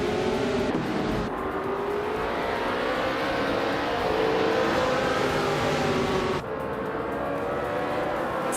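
Race cars, among them a 1968 Lotus 70, scream off the starting line with loud, rising engine whine sustained close by, shifting pitch as they accelerate, then a sudden cut to a fresh burst of revving.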